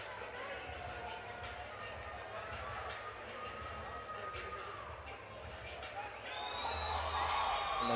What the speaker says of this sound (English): the crowd again going wild for Mr. Jacob Cobb